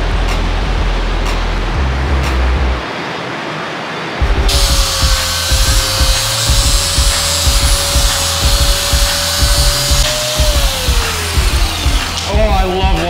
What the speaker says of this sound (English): I love watching a grinder wheel go like this when you're cutting